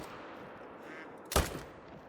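A single sharp rifle shot in a fallow deer hunting video game, one loud crack that stands out against a quiet ambient background, followed by a short fading tail.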